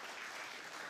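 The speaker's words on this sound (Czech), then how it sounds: "zatleskáme jí" Audience applause for a film award winner at a short-film festival ceremony, a steady dense wash of clapping filling the hall without a break.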